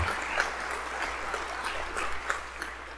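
An audience at a lunch awards event claps for a team, a fairly quiet, steady patter of many hands with a few louder individual claps, filling the whole moment without talk.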